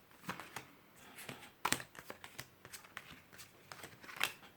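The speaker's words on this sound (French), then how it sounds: "Alors, attendez, je range mes cartes." Tarot cards are gathered and put away, with a run of close, soft slaps, flicks and riffles coming in irregular clusters, some sharper snaps standing out.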